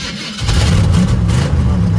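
A race car engine on an old crash-damaged car with a failed RPM gauge fires up loudly after a brief lull and holds a rough, throaty revving roar close to the listener.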